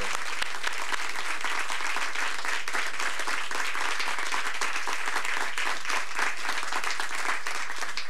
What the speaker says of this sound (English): let's give them another big hand of applause